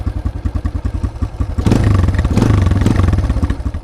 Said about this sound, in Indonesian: knalpotnya ini kayaknya sama, nggak ada perubahan spek di knalpot. Ngebas, bulat dan halus.